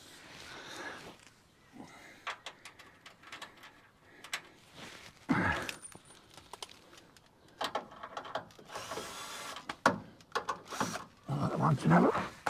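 Wrench work on the guard bolts under a Holden HK car, with scattered metallic clicks, ratcheting and clunks of bolts being undone, close and moderately loud, in irregular bursts.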